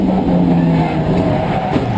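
A BMW Compact Cup race car runs flat out down the Dunlop straight at Donington Park, heard onboard as a loud, sustained engine drone with a steady pitch and little variation.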